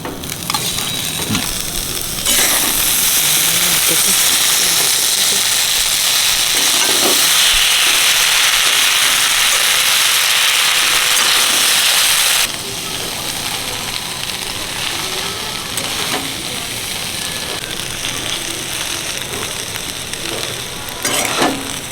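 Chicken and pre-fried vegetables are stir-fried for homemade chicken chow, with a loud, sustained sizzle from a hot pan for about ten seconds and then quieter frying with occasional clinks and scrapes of the spatula.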